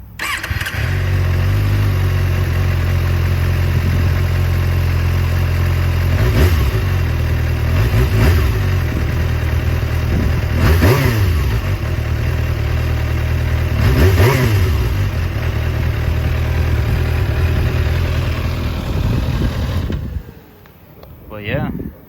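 A new 2024 Kawasaki Ninja ZX-6R (636) sportbike on break-in oil idles loudly and steadily up close, with several short, gentle throttle blips rising and falling over the idle before it cuts off near the end.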